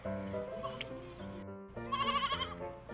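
A goat bleats over a busy musical backdrop in a children's fairy tale, a wavering cry standing out clearly and repeated near the end.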